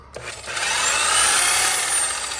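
A rotary polisher at about half speed, around 6,000 RPM, works compound into a fiberglass gelcoat boat hull under heavy pressure, rising quickly into a loud, steady close-up whirring grind with no talk.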